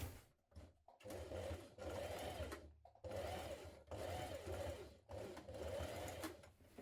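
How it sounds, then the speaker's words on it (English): Sewing machine stitching across blouse plackets through all thicknesses, running in several close bursts of steady motor hum with short stops between, fairly near and clear. "we're going to stitch across through all thicknesses, catching these two plackets together"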